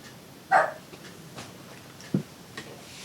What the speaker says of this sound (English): Normally Oz does not bark at them, but he just barked.